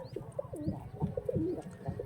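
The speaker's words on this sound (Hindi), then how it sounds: "अब देखना इसको गुटका लगाएगा बहुत गुस्से में" Pigeons coo in low rolling phrases repeated over and over, close and fairly loud, among a flock that includes a large fancy pigeon, with a faint high chirp or two.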